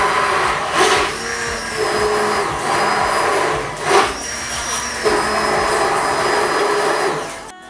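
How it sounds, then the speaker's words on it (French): An electric mixer whips cream in a bowl for a crêpe cake, a loud continuous whirring motor close by with brief surges and scraping swells as the beaters move. "On va mixer la crème."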